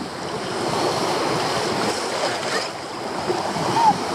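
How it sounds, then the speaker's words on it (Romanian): Wind gusts over sea surf on a beach at Eforie Nord on the Black Sea coast, a steady broadband rush of waves and wind noise buffeting the microphone throughout, with no clear speech. "Deci bate un vânticel, apa e bună, dar vântul ăsta te rupe."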